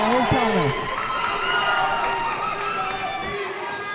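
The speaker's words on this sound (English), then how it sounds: "the home crowd coming alive here" Home crowd at a high school basketball game, the Broncs against the Trojans, keeps up a steady roar through the gym, with sneaker squeaks and a ball bounce near the start and voices mixed in.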